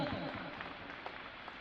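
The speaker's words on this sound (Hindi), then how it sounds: "तो जितने हंस रहे हैं इस बात पे ताली बजा दो" Audience applause at a live Hindi comedy show: a steady wash of many hands clapping together, sustained and fairly even for the whole moment, with a voice briefly audible over it at the start.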